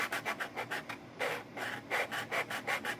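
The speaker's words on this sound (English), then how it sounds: "the bridge feet will conform to the sandpaper" A violin bridge's feet are rubbed back and forth on sandpaper in quick, even strokes, a dry rhythmic rasping close by, about a dozen passes with a brief pause partway through.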